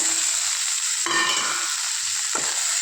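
Okra (ladyfinger) stir-frying in a pan for poriyal: a continuous bright sizzle with two distinct scraping stirs of a spoon cutting through, close up and fairly loud.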